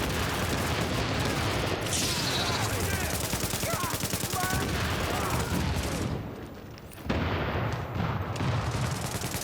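Rapid bursts of gunfire and booming blasts crowd together in a loud, chaotic battle din, with a brief lull before the noise resumes.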